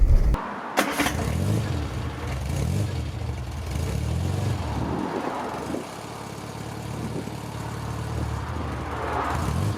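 Austin A40 Farina Mark 1 with the 998 A-series engine running on the road, a steady engine drone with cabin rumble throughout, a brief clunk near the start and slight changes in pitch as it pulls.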